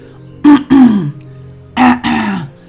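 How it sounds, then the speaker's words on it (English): Someone clears their throat twice, each time with two rough, close, loud bursts, separated by a short pause. "I'm going to clear my throat"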